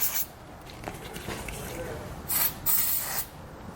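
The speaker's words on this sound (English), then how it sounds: "I'm going to spray it down with some lubricant just to help those slide off" An aerosol can of lubricant sprays onto exhaust rubber isolators on a 2014 Honda CR-V, first in a short hiss and later in two longer, louder close bursts.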